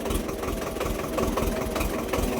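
A tractor carrying cucumbers churns through deep mud, its engine running in a steady, close, throbbing drone with rough knocking texture and no talk over it.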